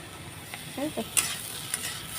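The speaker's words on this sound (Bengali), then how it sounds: "আর একটু ভাজা ভাজা করে নামিয়ে দেবো" Radish chechki frying in a pan, a low steady sizzle with a few brief scraping stirs and a light clink, close and fairly quiet.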